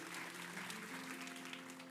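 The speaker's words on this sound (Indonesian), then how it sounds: "Kasih tepuk tangan untuk mereka." A church congregation applauds the volunteers and full-timers during a sermon, a steady, fairly faint wash of many hands clapping with a soft sustained tone underneath.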